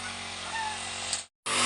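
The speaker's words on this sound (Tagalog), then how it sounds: "May grass cutter." A grass cutter runs steadily and loudly while a yard is cleared, its engine drone cutting out briefly near the end before roaring back.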